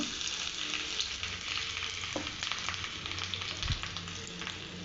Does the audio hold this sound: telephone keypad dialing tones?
no